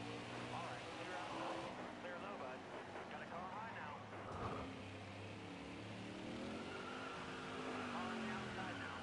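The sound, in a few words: NASCAR race car spinning out, from a racing video game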